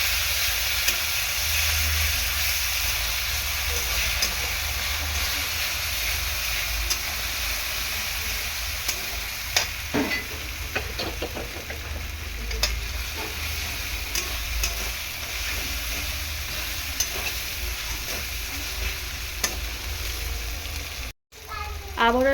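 Ginger garlic paste frying and being stirred in a pan for Bengali chicken kosha, a steady loud sizzle with occasional scraping stir strokes, close up, and no talking over it.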